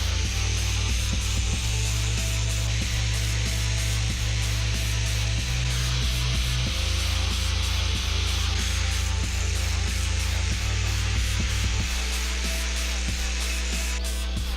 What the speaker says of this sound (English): clamp them together, and grind them until they're both exactly the same.